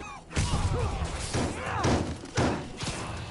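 A grenade explodes during combat in the Marvel's Spider-Man video game, giving heavy booming thuds among repeated loud impacts, with a voice briefly heard amid the dense fight noise.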